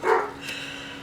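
A pet dog gives a short, close bark at the start, then the room goes quiet apart from faint background hum.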